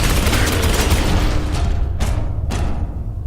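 Rapid bursts of gunfire from the video game Space Hulk Ascension, a loud rattling volley followed by two sharp, separate booming shots near the end.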